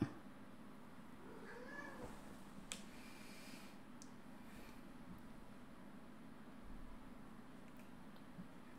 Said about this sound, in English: Oh, you guys heard my cat too?